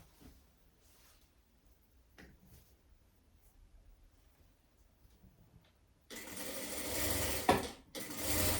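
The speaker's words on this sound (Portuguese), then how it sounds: "Puxo e faço a costura no contorno da manga com a cava." A sewing machine stitches a sleeve into an armhole of a long women's tuxedo jacket, starting after quiet handling and running close and loud in a continuous burst with a brief pause near the end.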